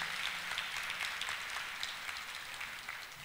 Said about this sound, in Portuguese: Pode aplaudir o profeta.